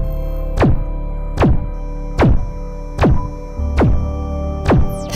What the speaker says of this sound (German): Starte Waffentest. 3 Schüsse abgeben.